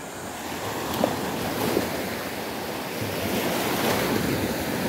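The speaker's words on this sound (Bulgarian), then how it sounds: "когато има вълнение, както днес имаше бурен вятър и големи вълни на този плаж" Large sea waves and stormy wind on a small beach near Varna by fishing boats and a lighthouse, a loud continuous roar of surf with wind buffeting the microphone and a few swelling breaks.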